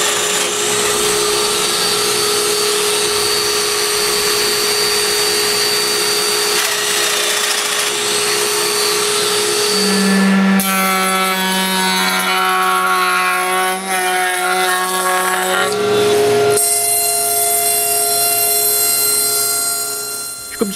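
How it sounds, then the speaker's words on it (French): A domino joiner drills mortise holes and cuts grooves into mahogany and plywood pieces for a bedside table, a loud continuous whining motor with shifting pitch as the cutter bites into the wood, steady throughout with no talking. "Comme pour les cordes en acajou, je perce des trous de domino puis je mets une rainure au centre des morceaux."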